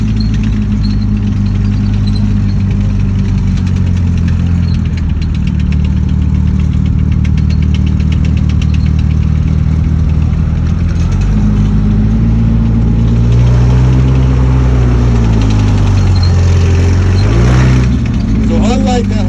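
A Sherman tank fitted with a Ford engine runs at a military tank display, a steady, loud, deep growling rumble with shifting pitch throughout, with someone talking over it.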